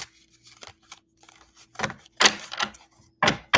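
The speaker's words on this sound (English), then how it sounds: "Let me shuffle one more time." A thick tarot card deck being shuffled, with crisp bursts of riffling and snapping cards in uneven clusters, close and fairly loud with pauses between.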